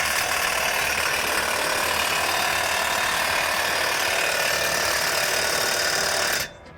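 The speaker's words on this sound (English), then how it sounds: "I'm putting bolts in right now, tightening the pin in, making sure it's locking in position." Bolts being tightened on a Case IH ADX2230 air seeder during a rebuild: a loud, close, continuous mechanical rattling grind runs steadily for about six seconds, then cuts off abruptly.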